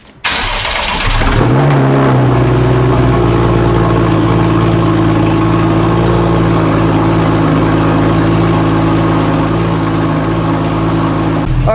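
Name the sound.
straight piped Porsche 911 3.8L cold start idle with new tune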